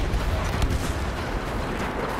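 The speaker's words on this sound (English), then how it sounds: "There's explosions everywhere." Rumbling booms and gunfire from a Star Wars Battlefront battle, a dense low roar of distant explosions that swells early then settles into a continuous murmur.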